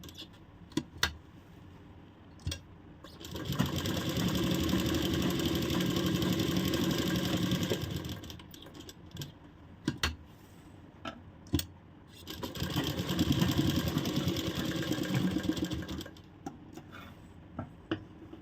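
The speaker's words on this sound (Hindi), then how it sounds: "स्ट्रेट करने के बाद फ्रेंड अब हम इस पर सिलाई चलाएंगे। यहाँ हमें 2-3 बार सिलाई चला लेनी है।" Household sewing machine running straight stitches along fabric while attaching a pocket zip, two sustained bursts of steady mechanical whirring with a rapid needle ticking, separated by a pause filled with small clicks and handling noises.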